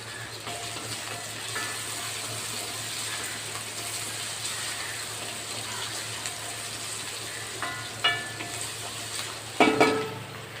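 Steady crackling sizzle of mustard seeds frying in hot oil for sambar tempering, with a few sharper pops and clatters near the end.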